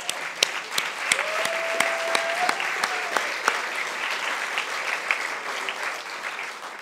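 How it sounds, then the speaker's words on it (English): Warm applause for the 2022 Cooperative Hall of Fame inductees fills a hall: a sustained spread of clapping with some louder nearby claps popping out, holding fairly even and easing slightly toward the end. "will join me in a round of applause for all 5 of our 2022 inductees."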